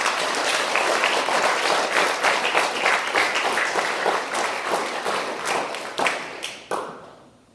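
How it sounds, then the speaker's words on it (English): Audience applause for primary students at a school presentation day, steady overlapping claps that carry on for several seconds and then thin out into a few last scattered claps before stopping. "If we can please applaud these students."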